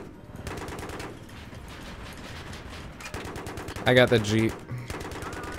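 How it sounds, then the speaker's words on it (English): Rapid machine-gun bursts crackle in the Battlefield 3 video game, repeated volleys coming in uneven stretches with a louder burst partway through, while a player talks briefly over them. "It's a machine gun of some sort."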